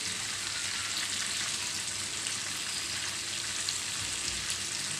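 Fish pieces fry in hot oil for a curry, a steady close sizzle and hiss running unbroken throughout, with no voices.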